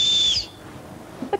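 A life jacket safety whistle blown once in a steady, shrill blast of about half a second, followed by quiet cabin room tone and a couple of faint knocks.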